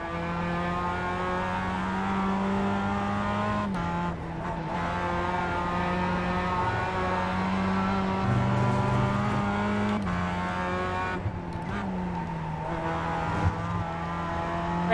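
Mazda car engine in a driving video game, droning steadily with harmonic revs that rise and dip through gear changes, with brief tire noise under braking and hard cornering, continuous and close throughout.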